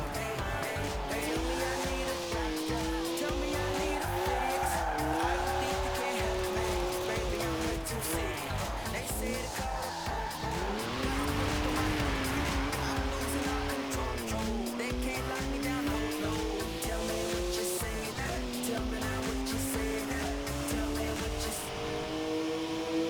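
A BMW races in Forza Horizon 4 with a loud, sustained engine note that rises and falls through the gears, along with tire squeal and skidding. Someone talks over it throughout.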